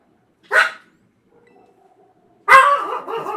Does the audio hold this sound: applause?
no